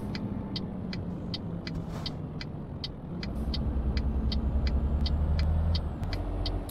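A 6x4-chassis truck drives through Euro Truck Simulator 2 near Glasgow, its engine a steady low drone that swells louder partway through, with regular light ticking clicks repeating over it.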